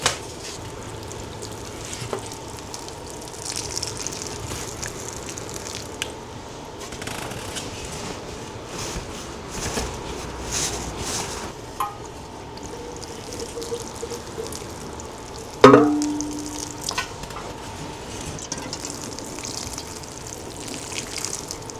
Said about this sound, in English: It's just easier when I'm watering into something that's hydrophobic to use something that still has a rose on